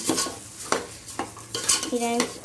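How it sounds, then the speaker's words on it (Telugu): Plain rice frying and being stirred in a pan for a simple biryani: scraping spoon strokes against the pan come in several distinct bursts over a quiet sizzle, close and clear. "రైస్ కొంచెం వేగాలి."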